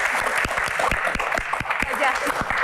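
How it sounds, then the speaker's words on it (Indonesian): An audience at a Q&A event claps with distinct, fairly close handclaps over a lively crowd hum and overlapping voices. "Dari hati, tepuk tangan dong."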